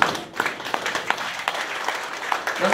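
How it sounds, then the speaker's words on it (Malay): An audience gives a short burst of applause, a dense, steady patter of many hands clapping indoors, with a voice faintly audible underneath. "Tuan-tuan tak payah tepuk tangan."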